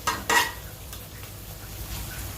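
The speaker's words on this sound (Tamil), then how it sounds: "அப்படியே அதையும் கொஞ்சம் ஃப்ரை பண்ண வேண்டியதுதான்" Macaroni tossed with masala in a hot pan for a liver mac dish, giving two quick close scraping stirs at the start followed by a soft, steady frying hiss.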